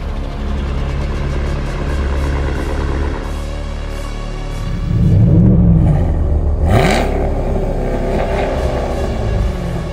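New Cadillac Escalade V8 fitted with a tuned controllable exhaust, idling with a deep steady rumble, then blipping the throttle for a loud rev swell and a second quick rev that drops back to idle.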